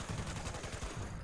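A Berserker's Firerate .50 cal machine gun fires in Fallout 76 as a rapid, continuous burst of heavy gunshots, evenly spaced and fairly quiet, lasting a little over a second with no talk.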